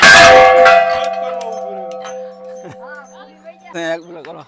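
A large temple bell rings with one loud strike at a Gujarat temple, its metallic tone decaying slowly over several seconds while a voice and a brief dog-like yelp break in near the end.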